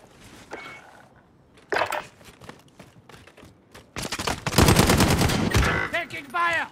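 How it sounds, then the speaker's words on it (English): Rapid automatic gunfire on Rebirth Island in Call of Duty Warzone, with scattered single shots and then a loud sustained burst of fire at close range. Snatches of voice surface between the shots. "Taking fire!"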